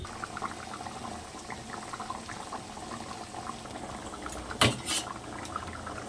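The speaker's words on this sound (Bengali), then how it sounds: "তরকারিটা ফুটে উঠেছে" Fish and taro curry with peas bubbles in a pot, a soft steady simmer running throughout, with a brief louder clatter near the end.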